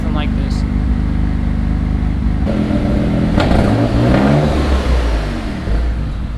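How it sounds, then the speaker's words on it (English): A built twin-turbo Mitsubishi 3000GT with aggressive cams revs hard, its engine roaring loud and close with a choppy idle-like lope before climbing and falling in pitch through the whole stretch. "This car sounds so sick with those cams."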